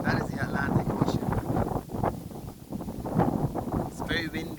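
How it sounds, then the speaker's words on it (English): Atlantic breezes buffet the microphone on Cherry Tree Hill, producing a steady, rumbling wind noise throughout, with voices and some background activity audible beneath it. "It's very windy up here, Atlantic breezes."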